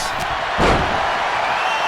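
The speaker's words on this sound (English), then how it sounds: "Those are folding chairs, but they can also fold you in half" A single hard slam rings out from a folding chair strike in a WWE 2K25 wrestling match, thudding once mid-clip over steady arena crowd noise.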